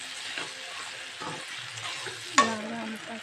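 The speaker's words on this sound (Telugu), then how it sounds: "ఫస్ట్ మనం ఆయిల్ లేని బెండకాయ ఫ్రై చేసినప్పుడు వేసి స్లో మోషన్లో కలుపుకుంటూ" Okra fry stirred in a pan with a soft scraping rhythm, a quiet sizzle underneath and one sharper clink of the utensil near the end.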